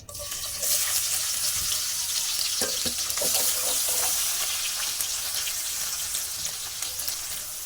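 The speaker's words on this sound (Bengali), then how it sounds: "পেঁয়াজটা অনেকটা ভাজা হয়ে গেছে" Steady, loud sizzling of onions frying in hot oil fills the whole stretch, with occasional small clinks and crackles.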